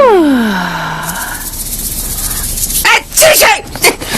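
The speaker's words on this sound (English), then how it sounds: "That was definitely my last sneeze." A cartoon cat lets out a sneeze: a rising, whining squeal that drops away, then a breathy hush and a burst of sharp explosive bursts at the end, loud and close.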